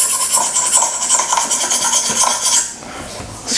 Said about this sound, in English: scraping the wand